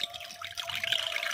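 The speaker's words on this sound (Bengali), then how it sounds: "এবারে জল দিয়ে দিয়েছি।" Water trickles and pours into a pot of dalia (broken wheat) and masoor lentils, a steady close liquid splashing that swells midway, with a faint constant hum beneath and no talk.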